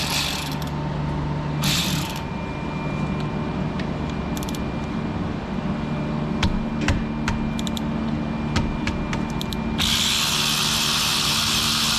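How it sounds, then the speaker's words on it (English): A power tool, likely an impact wrench or drill, spins off the two 14mm caliper bolts on a Hyundai Santa Fe's front brakes, with bursts of ratcheting, whirring and clicking, close and loud, with no talking. "Next, we'll go ahead and remove the 2 14mm bolts, or caliper bolts."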